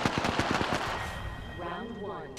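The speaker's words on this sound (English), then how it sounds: "I'm taking fire." Rapid automatic gunfire from the Apex Legends video game, a fast burst of sharp repeated shots lasting about a second, then quieter game ambience and a sudden loud hit at the end.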